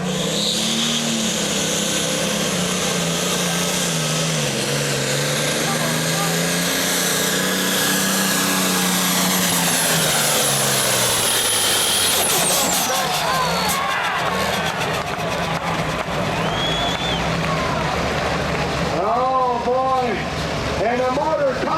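A propane-fueled pulling tractor roars loudly and steadily at a tractor pull, its engine note climbing as it shifts gears, while an announcer talks over it and the crowd noise carries on throughout.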